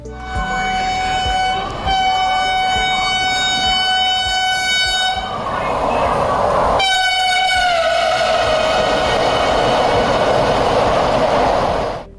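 An electric Vande Bharat express train rumbles past while its horn blares in long, loud blasts, briefly breaking off and then sounding again over the rushing noise.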